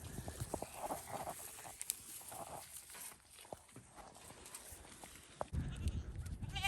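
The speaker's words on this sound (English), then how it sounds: "let's feed these goats real quick" Goats on a farm in winter snow move about near the camera, with shuffling hooves and scattered soft animal noises under background clatter and rustling.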